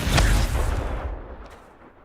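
The Confringo blasting spell goes off in Hogwarts Legacy as a single heavy, booming burst that hits hard at the start and then rumbles away over about two seconds.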